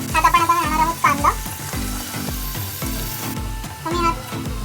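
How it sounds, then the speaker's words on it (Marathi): Onion hits hot oil already crackling with curry leaves and ginger-garlic paste, giving a loud, steady sizzle with scraping stir strokes and clinks of a utensil in the pan. "कढीपत्ता घालून मग आपण जे आपलं आलं लसूण पेस्ट होती त्यात आपण आता घालणार आहोत कांदा."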